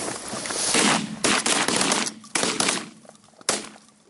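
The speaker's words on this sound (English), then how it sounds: "That was horrible shooting." Shotgun fire during a late-season goose and duck hunt in Wisconsin, several loud blasts in quick irregular succession, close by, with no talk.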